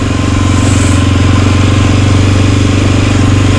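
A Honda XRE300 motorcycle engine runs steadily in the rain, a loud, continuous low throb with an even pulsing rhythm and no talk over it.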